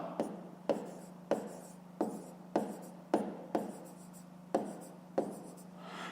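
A pen writes a maths solution on paper in about ten quick strokes at a steady rhythm, each a sharp scratch that trails off, close and alone over a low hum.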